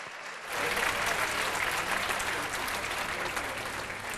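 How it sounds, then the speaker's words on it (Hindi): Full crowd applause at a Hindi kavi sammelan poetry event, swelling in after a short pause into dense, steady clapping from a large audience. "एक बार दोनों हाथ ऊपर उठाइए और इन्हें तालियों में तब्दील करके एक माहौल बनाइए"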